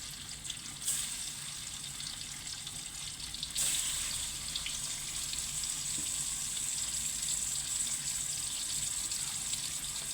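Marinated tofu fries in a pan to half-done, a continuous bright hissing sizzle that starts up and then grows louder partway through, with no talking.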